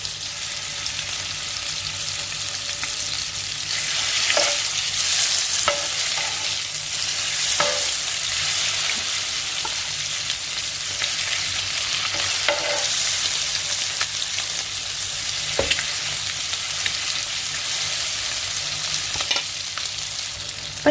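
Masala-coated eggs fry face-down in hot oil in a frying pan, giving a long, even, close sizzle with occasional faint clicks and taps over about twenty seconds.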